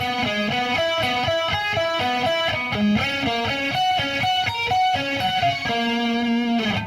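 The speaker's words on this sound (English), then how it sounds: "The arpeggio picking pattern should sound like this." A distorted electric guitar plays a fast, continuous picked arpeggio pattern, notes ringing steadily through shifting chords.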